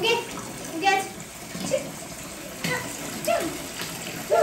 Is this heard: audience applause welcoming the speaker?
no